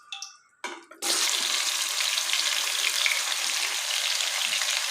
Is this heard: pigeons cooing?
no